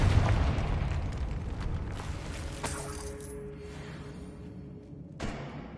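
A Confringo fire spell detonates in Hogwarts Legacy, a sharp blast around the midpoint followed by a second burst near the end, over a continuous low game rumble.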